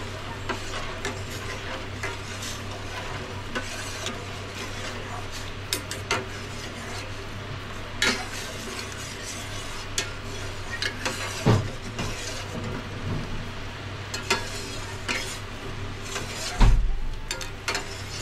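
A spoon stirs a jelly fruit cake mixture in a pot on the stove, soft scraping and sloshing repeating steadily alongside a low cooking hum, with a few sharper clinks of the utensil against the pot.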